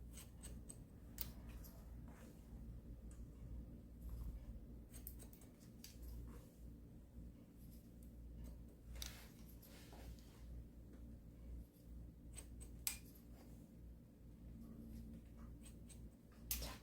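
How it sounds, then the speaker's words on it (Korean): Scissors cutting hair during a graduation haircut give quiet, close metallic snips in scattered clusters over a low steady background hum, with no talk. "누르면서 여기서 빗으로 떠서 아랫머리 같이 들고 와서 커트"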